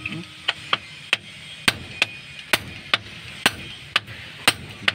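Sharp, close hammer blows strike a large flat screw about twice a second in an even rhythm, roughly a dozen loud knocks over a quiet background.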